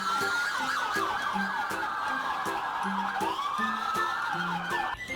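A toy police car's wailing siren rises and falls continuously while a bouncy electronic tune plays underneath, steady and fairly loud.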